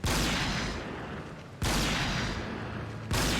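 Rifle shots strike a plasteel wall in the RimWorld video game, three loud, sharp blasts about a second and a half apart, each followed by a long, noisy ringing decay.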